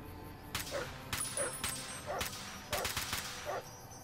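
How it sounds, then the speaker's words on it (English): A modded gun in Fallout: New Vegas fires with a dog-bark sound, about five sharp bark-like bursts at irregular intervals over game noise, fairly faint overall. "Why is the gun making a bark"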